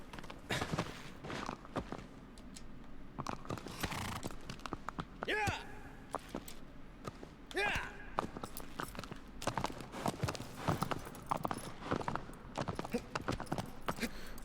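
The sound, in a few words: horse hooves clip-clopping in Shadow of the Colossus video game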